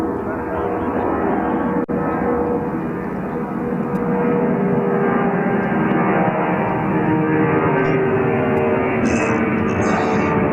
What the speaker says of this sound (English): That was Delta Air Flight 253 headed to Bogota